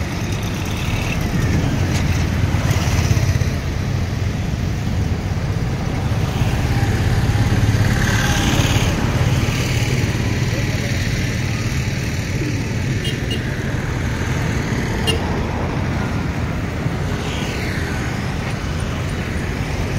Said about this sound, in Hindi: ट्रैफिक इधर से जा रही है।